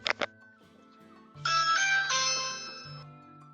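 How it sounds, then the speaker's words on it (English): A front-door doorbell with a camera is pressed: a couple of sharp taps, then a loud two-part electronic chime rings out and lingers, close and clear, with no talking. "then rang the bell and ran off"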